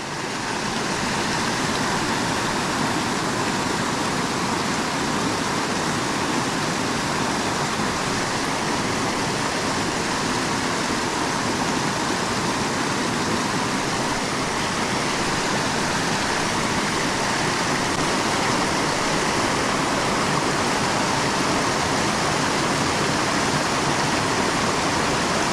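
Waterfall rushing with heavy spring runoff, a steady, loud, full-bodied roar of water that holds constant from start to finish with no pauses and no voices.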